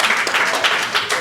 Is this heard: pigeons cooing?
no